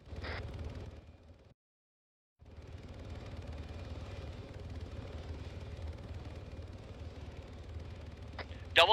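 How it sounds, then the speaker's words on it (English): Helicopters spinning up for takeoff in a military video game, a steady rotor and engine drone that cuts out briefly and then resumes, with players talking over it. "Okay, hold until the helicopters take off."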